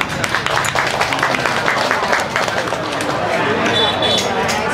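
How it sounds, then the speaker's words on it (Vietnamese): An audience in a parish church applauds at an Easter celebration, a close, dense wash of clapping with crowd chatter and voices mixed in throughout. "một tràng pháo tay để chúng ta chào đón và cảm ơn ông bà"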